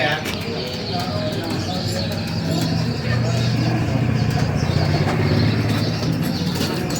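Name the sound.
pigeons at a Karachi bird market shop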